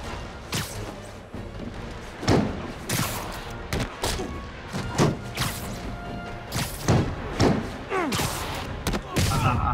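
Gunfire aimed at Spider-Man in Spider-Man Remastered, a run of sharp shots and thuds scattered irregularly through a busy combat scene, with a voice talking in between.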